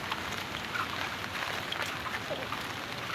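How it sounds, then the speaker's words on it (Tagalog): Steady, continuous rain falling at night in Santa Rosa, a dense even patter with no pauses and no one talking. "Dahil hindi na po natigil ang ulan."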